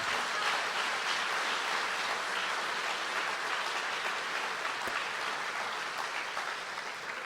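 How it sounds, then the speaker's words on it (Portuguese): A congregation applauds during a church service, with steady dense clapping that holds evenly for the whole stretch at moderate level, with no talk over it. "aplaude aí ao Senhor"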